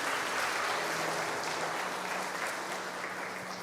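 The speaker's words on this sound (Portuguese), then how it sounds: "Você pode aplaudir o Senhor Jesus?" Church congregation applauding after a prayer during a Portuguese-language sermon, a steady wash of dense clapping from a large group held at an even level throughout, with no voices over it.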